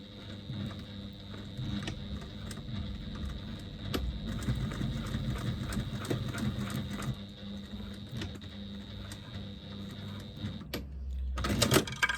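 A flatbed sewing machine stitches a seam on a Lambda weave bag, a steady mechanical whir with light rhythmic clatter running for most of the stretch, close by, ending with a brief louder rustle.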